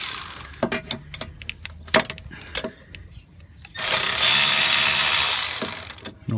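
On a 2004 Pacifica, some ratcheting clicks and knocks come first, then a cordless power tool works on a motor mount bolt in a loud, continuous burring burst lasting about two seconds, up close.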